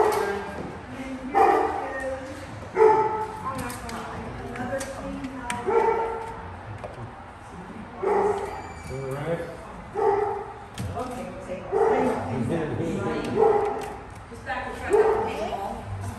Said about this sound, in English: These are baby puppies.